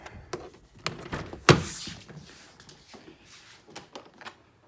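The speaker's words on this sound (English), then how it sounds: "let me open up the door" A single sharp thunk of a 2004 Infiniti G35 Coupe door being opened near the start, followed by faint rustling and small handling noises.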